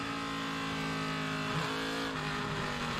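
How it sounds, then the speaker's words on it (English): An onboard view of the Geico Chevrolet NASCAR Busch Series race car in 2007, its engine roaring at full throttle in a loud, steady, high-revving whine as the wheels spin, with no talking. "You can hear the throttle. He gets in it, starts spinning the wheels."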